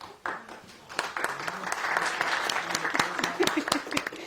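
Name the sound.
applause welcoming a speaker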